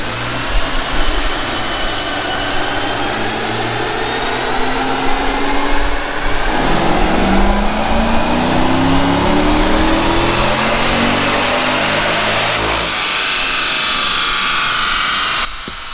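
An LS3 V8 in a C6 Corvette on a chassis dyno during a third gear pull, a loud sustained engine roar climbing steadily in pitch over several seconds before cutting off abruptly, with no voices.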